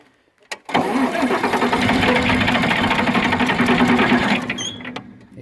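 A John Deere 4010 tractor engine cranks hard for about four seconds, a loud, fast, steady churning from the starter that never catches, then cuts off. A couple of faint clicks come before and after.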